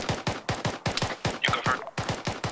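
Gunfire in the video game Arma 3, a rhythmic series of about a dozen evenly spaced, punchy shots close by, each with a short decay, with a brief muffled voice-like burst partway through.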